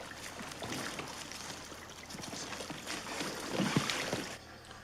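Rubber boats on cold water during a wartime night patrol, with soft paddling and water slaps over a low, steady rushing background that swells slightly toward the end.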